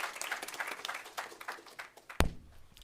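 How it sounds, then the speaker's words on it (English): A sparse round of clapping from an audience at a regional ministerial business engagement, moderately quiet and thinning out, ending in a sharp knock before near silence. "A round of applause, thank you."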